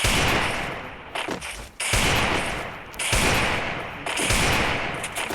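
Video game gunfire during a headshot kill: loud, rapid automatic bursts in about four sustained volleys with brief gaps between them, with no talk.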